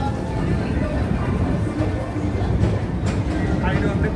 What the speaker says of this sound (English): I'll hit the monorail